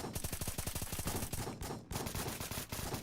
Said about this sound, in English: And I'm getting strafed